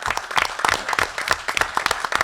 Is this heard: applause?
yes